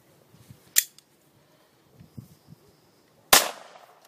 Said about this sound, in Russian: выстрелим германским патроном Umarex